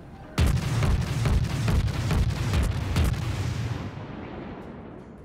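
A loud, sustained burst of rapid naval gunfire from the video game World of Warships, with booming impacts, rattling on for several seconds before fading into a rumbling tail.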